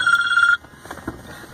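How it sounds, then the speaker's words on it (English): A telephone rings with a steady electronic ring for about half a second, then stops, leaving faint rustling and low background noise. "Is that my phone?"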